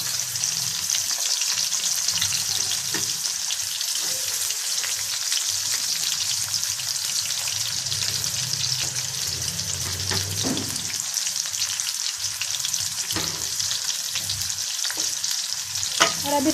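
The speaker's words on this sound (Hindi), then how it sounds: "तो तेल गर्म हो चुका है, अब हम इसमें प्याज शामिल करते हैं।" Onions frying in hot oil in a pan, a steady soft sizzle with occasional stirring scrapes and clinks, close and moderately quiet, with no one talking.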